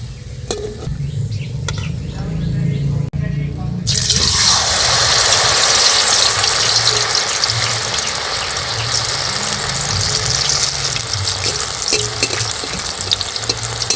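Radish pakoras frying in hot oil, a steady loud sizzle that surges into a dense hiss after a few seconds and holds throughout with low stirring clatter beneath.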